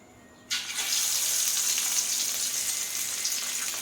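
Chicken pieces fry in hot oil, a sudden onset of loud, steady bright crackling sizzle that starts abruptly and continues evenly with small pops.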